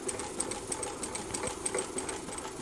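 Industrial walking foot sewing machine stitching in reverse with heavy 92 weight thread, a quiet steady chugging of needle strokes with faint clicks, running alone.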